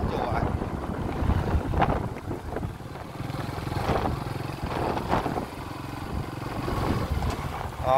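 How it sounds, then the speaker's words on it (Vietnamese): Strong wind roars across open rice fields on the walk toward a pagoda, buffeting the microphone in loud, steady gusts with brief swells throughout. "Gió quá, phải đồng ruộng đồng trống."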